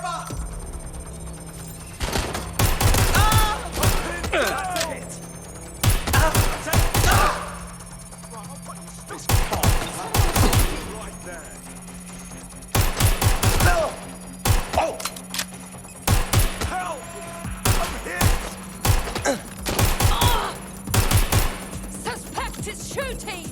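Gunfire in the video game Watch Dogs Legion, repeated bursts of sharp cracking shots in irregular clusters over a steady background hum, fairly loud throughout.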